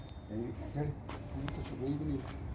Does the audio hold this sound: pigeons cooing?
yes